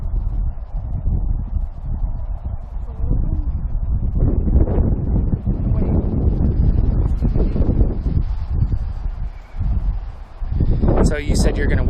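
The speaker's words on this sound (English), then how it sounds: "Yeah, it's real windy." Strong wind gusts buffet the microphone outdoors while a compound bow is being sighted in, a loud continuous roar and rumble throughout with a voice faintly beneath.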